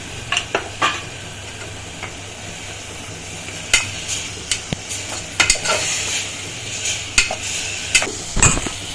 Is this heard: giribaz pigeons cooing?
no